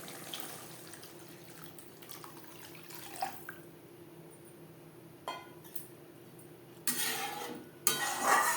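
Water is poured into a pan of spice gravy for Bengali tel koi fish curry, splashing and gushing in short bursts late on over a quiet, low background of cooking.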